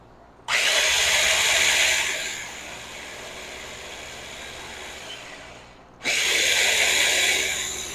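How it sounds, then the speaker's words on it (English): A countertop blender whirs loudly while blending raspberry vinaigrette, running in a strong two-second burst, easing to a steadier lower whir, then surging again near the end, with no talking. "We'll blend this up, get our top on"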